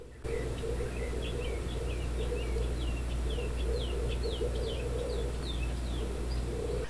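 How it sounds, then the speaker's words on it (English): Birds sing outdoors in a steady series of short, bright chirps and warbling phrases at moderate distance, set over a constant low hum from a computer and mini fridge indoors. "But if I'm quiet, you may be able to hear the birds."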